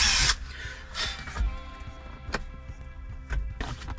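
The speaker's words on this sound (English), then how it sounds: "Pre-drill your holes." A power drill with a 7/64 bit pre-drills holes for mounting a solar panel on a Bronco hood, heard as several short, close whirring bursts separated by brief pauses.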